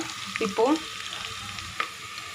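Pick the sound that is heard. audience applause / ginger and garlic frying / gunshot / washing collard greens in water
ginger and garlic frying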